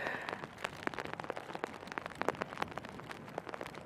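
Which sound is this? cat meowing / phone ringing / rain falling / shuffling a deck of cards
rain falling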